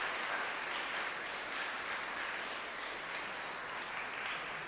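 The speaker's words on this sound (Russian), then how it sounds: "я тоже почувствую и услышу огромное количество аплодисментов" Concert audience in a Chopin junior college hall applauding a newly introduced staff member, a steady dense wash of clapping that holds at even volume for the whole stretch with no voices over it.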